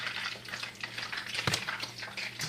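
Seaweed fries in hot oil in a pan, giving a steady close crackling sizzle with scattered pops and a few soft scrapes of a spatula or utensil, with no talk over it.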